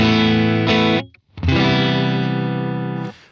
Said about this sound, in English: This is what the guitar sounds like into the Dream with the pedal off.